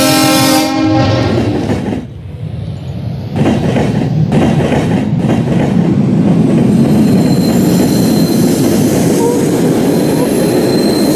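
A diesel locomotive in a Roblox game sounds a loud horn blast, then rolls with steady rumbling wheel noise and a faint squeal, close and loud, with some speech mixed in.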